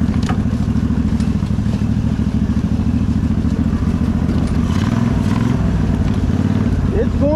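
A 999cc V-twin buggy with dual A-arm front suspension drives along, its engine a loud, steady, close rumble throughout with faint clatter and other noises riding over it.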